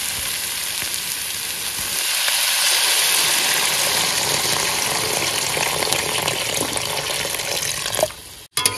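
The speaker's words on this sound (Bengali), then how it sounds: "মোটামুটি কষানো হয়ে গেছে, এবার জল দিয়ে দেবো।" Water is poured into a curry frying in a pan aboard a boat in the Sundarbans forest at night, a loud, steady broadband rush and sizzle that swells around the middle and cuts off abruptly near the end.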